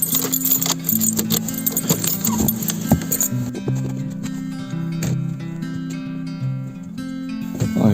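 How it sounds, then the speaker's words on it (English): A bunch of keys jangles and clinks near the door of a seaside house in winter, metallic rattling close and fairly loud for several seconds. "Keys."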